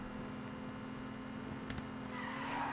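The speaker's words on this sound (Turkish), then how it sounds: "Şöyle bir drift." A car drifting in a mobile GTA 5-style driving game, with a steady engine drone and a rising tire squeal near the end. The sound runs loud and continuous with no talking.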